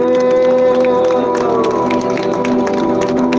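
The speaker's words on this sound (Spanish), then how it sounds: "Dele palmas fuerte al Señor." A church congregation applauds in a loud, steady burst of clapping and crowd noise, mixed with sustained musical tones, with no clear pause across the few seconds.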